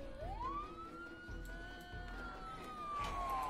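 Wailing emergency siren from the video game Project Zomboid, a single long rising-then-steady tone holding loud and continuous over low rumbling background noise.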